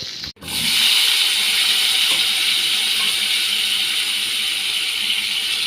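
Tomatoes drop into a hot pan and release a loud, continuous hissing sizzle that starts after a brief pause and holds steady and close to the end.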